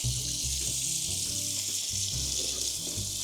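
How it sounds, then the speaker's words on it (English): Running tap water fills a kitchen sink for washing dishes, a steady close rush of water with a few irregular thumps and clunks underneath, no talking. "I'm gonna fill up the water with some water."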